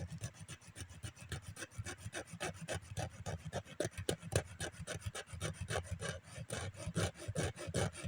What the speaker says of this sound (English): It's a damn hacksaw. It's supposed to cut through metal. Damn big toenail.